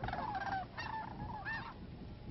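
Several geese honk repeatedly at an open feeding area on a New Mexico wildlife refuge, a few overlapping calls in quick succession, fairly faint and somewhat distant.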